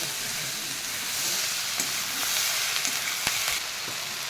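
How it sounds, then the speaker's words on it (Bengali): Onion and capsicum fry in a pan for chicken chowmein, giving a steady, loud sizzle with occasional stirring clicks and no voices. "এইবার পেঁয়াজ আর ক্যাপসিকামটা একটু ভেজে নিচ্ছি"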